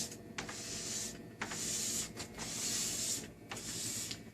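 A plastic scraper pulls glide wax off a cross-country ski in short, repeated strokes, each a raspy scrape of about a second, spaced with brief pauses, close and fairly quiet.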